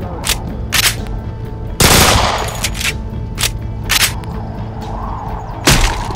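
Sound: Beretta 93R pistol gunfire in video game Left 4 Dead 2

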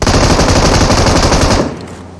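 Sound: gunfire in a shooter video game

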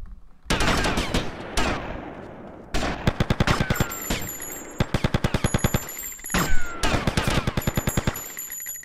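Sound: gunfire from a gun in the video game GTA Vice City

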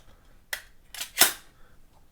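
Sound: opening a Lubitel 166 export-version vintage film camera

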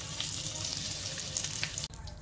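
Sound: pointed gourd (parwal) frying in oil

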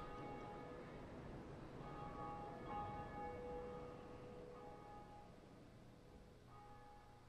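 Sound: bell ringing in the video game Dark Souls

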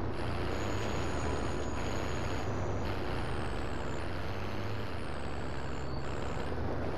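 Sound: truck driving in a video game

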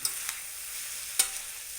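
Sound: stirring frying noodles in a pan with a spoon

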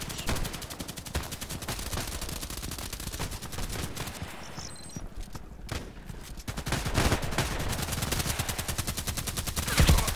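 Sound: gunfire from a video game, pistol long shots

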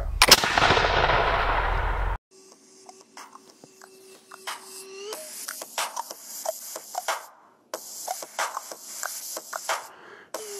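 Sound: 18th century musket firing

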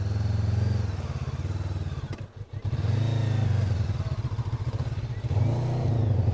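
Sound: Honda NX500 motorcycle engine off-road

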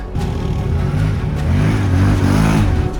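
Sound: quad bikes (ATVs) riding past

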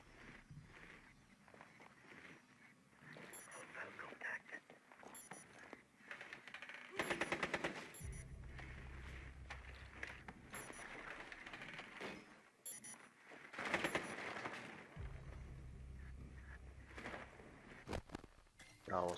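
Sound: gunfire in video game Rainbow Six Siege

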